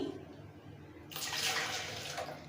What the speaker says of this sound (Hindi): तो चलिए अब हम अपने जूसर के अंदर डालते हैं सबसे पहले पानी